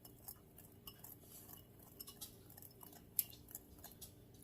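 A spoon stirring chocolate cobbler mixture in a bowl, soft scraping and light clinks repeating at an uneven pace, close and quiet, with one sharper tap near the end.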